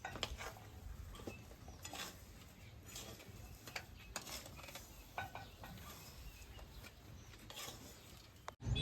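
Sugar being stirred into semolina sheera in a pan, with quiet, irregular scraping and ticking of a spoon against the pan, close and soft.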